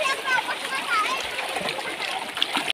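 Water splashes steadily in the Batis river, a close and busy wash of splashing and flowing with a voice mixed in.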